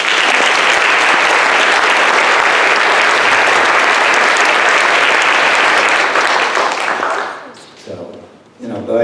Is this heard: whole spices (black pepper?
no